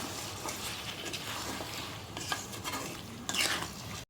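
Chicken with ginger-garlic paste and salt is mixed in a pan, with soft wet scraping and stirring, faint sizzling and a brief clatter of a utensil near the end.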